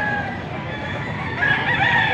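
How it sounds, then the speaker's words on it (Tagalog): A rooster crows in a long drawn-out call, fairly close, over a steady background of clucking and bustle at a chicken auction in Angeles, Pampanga. "Silipin lang natin itong mga manok nila."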